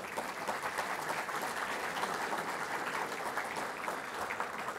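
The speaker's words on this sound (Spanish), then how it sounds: "para quienes pido un fuerte y cariñoso aplauso" Sustained audience applause fills the hall at the EXCON 2019 construction fair opening ceremony, a steady dense clapping wash at even loudness from start to finish with no voice above it.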